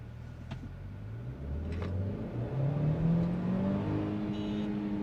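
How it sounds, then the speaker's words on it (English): The turbo-petrol engine of a Kia Seltos iMT revs in first gear, its steady drone climbing in pitch and holding near the rev limiter, moderately loud and alone. "let's bounce on the rev limiter so that you get to understand how it works"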